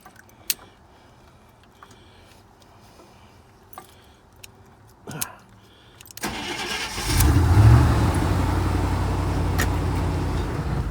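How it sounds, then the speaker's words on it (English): A truck engine cranks and catches after several seconds of quiet ticks and small clicks, then settles into a loud, steady idle rumble close by. "Does the truck just starting up deserve a you?"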